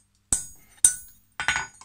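A hammer drives a center punch into a forged steel hook, giving four sharp metallic strikes: two spaced ringing blows, then a quick pair close together, each decaying quickly with no talk.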